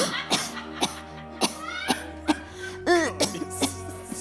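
A feverish woman coughs weakly, giving a series of short, soft coughs at roughly regular intervals over a low background hum.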